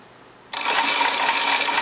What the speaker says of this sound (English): Again, I'm just going to stitch right up to that stitch